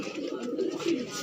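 A Lal Cheeni female pigeon coos softly in a brief, low, rounded call heard close up.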